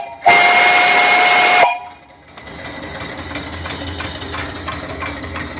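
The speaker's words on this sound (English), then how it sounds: "Here's the whistle." A loud steam whistle on a return flue boiler at about 55 psi blows one shrill, steady blast for just over a second, then a steam engine chugs and idles rhythmically in the background.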